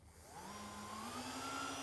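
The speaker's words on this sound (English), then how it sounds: "Let's see if this track vacuum cleaner turns on, shall we?" A homemade model railway track vacuum cleaner switches on, its motor whine climbing steadily in pitch as it spins up and then holding a loud, even drone.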